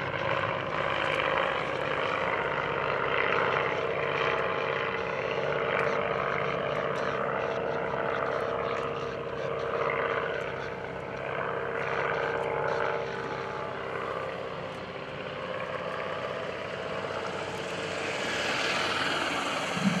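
A 1911 Curtiss pusher propeller aircraft drones steadily overhead at an airshow, its engine roar holding fairly constant for the whole stretch with slight swells, no voices.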